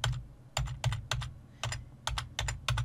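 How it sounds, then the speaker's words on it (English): Computer keyboard arrow keys are pressed in a steady series of about ten close, crisp clicks with short gaps between them, heard alone in a quiet room with no talking. "I'm going to use the arrow keys to nudge them down"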